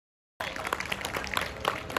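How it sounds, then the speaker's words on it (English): A school audience at a National Science Day quiz result announcement applauds Godavari House for fourth place, a steady wash of many hands clapping that starts abruptly after a brief silence and holds at an even level. "Give them a big round of applause"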